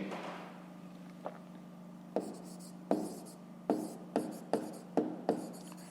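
A pen writes on paper close up in a series of short, crisp scratchy strokes that quicken toward the end, with no talk over them.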